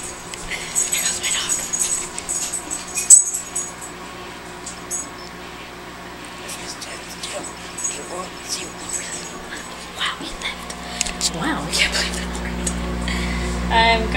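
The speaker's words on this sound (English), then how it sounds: "He's barking." A small dog barks and whimpers indoors in short yips scattered across the clip, fairly close, mixed with household noise and a person talking; a low hum rises near the end.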